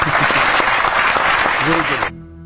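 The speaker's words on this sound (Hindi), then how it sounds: "और से ताली बजेगी अब देखो।" Loud, dense clapping from a group of people cheering a child's correct answer, running steadily for about two seconds with voices mixed in, then cutting off abruptly.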